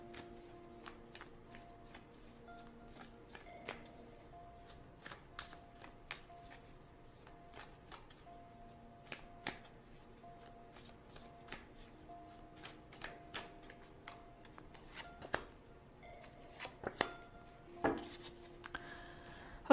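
Tarot cards are shuffled by hand in a steady run of crisp riffling flicks and soft slides, close and fairly quiet, with no talking.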